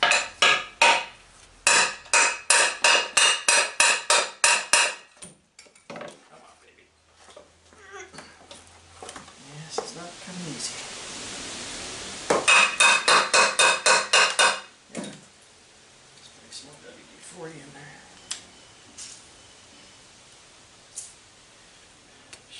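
Sharp metallic hammer blows ring out in quick bursts as a stuck part is knocked off a mower, with a pause of softer shuffling and clatter between rapid strike series, then quieter handling noises.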